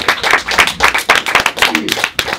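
A small group claps for actors after a rehearsal scene from Of Mice and Men, a close, loud burst of irregular handclaps lasting a couple of seconds.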